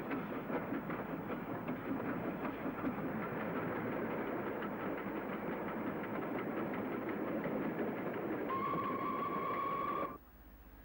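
Steam locomotive DS233, formerly 30061, runs on the line through Southampton toward Eastleigh as a continuous rumbling, chuffing roar, joined near the end by a sustained whistle tone before the sound cuts off abruptly.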